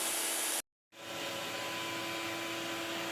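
A shop dust collector runs with a loud, steady broadband rush of suction, cuts out abruptly for a moment, then spins back up and holds its constant whooshing drone.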